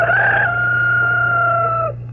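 A voice imitates a rooster crowing in one loud, drawn-out, slightly wavering call lasting about two seconds, close to the microphone and trailing off at the end, over a low steady hum.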